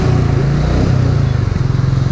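A 350cc Royal Enfield motorcycle on a test drive, its engine droning loud and steady up close with a thumping low exhaust note that rises slightly near the end.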